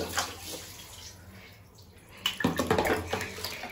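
Water poured from a mug during a bath splashes in irregular bursts, softer at first and then heavier and closer after a short quiet patch.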